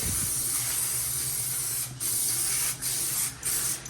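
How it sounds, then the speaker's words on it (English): Copper Adhesive Extra Strong carpet tile adhesive sprayed from an aerosol can onto a floor in a loud, close, continuous hiss, broken by three brief pauses between bursts. "I'm gonna spray a little bit down here, just like in this way."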